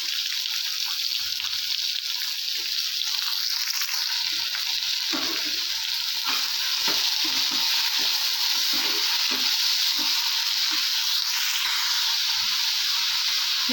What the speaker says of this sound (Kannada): ಈರುಳ್ಳಿ ಚೆನ್ನಾಗಿ ರೆಡ್ ಕಲರ್ ಆಗೋವರೆಗೂ ಫ್ರೈ ಆಗಲಿ